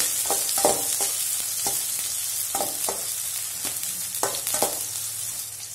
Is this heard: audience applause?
no